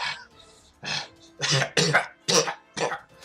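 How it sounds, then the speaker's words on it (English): Several harsh, raspy coughs in short bursts, close and fairly loud, with brief pauses between them. "starts to cough up blood"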